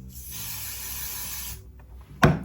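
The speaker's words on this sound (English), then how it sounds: "I'm gonna hold the root and spray it" A steady aerosol hiss of spray lasting over a second, close by, ending just before a single soft knock.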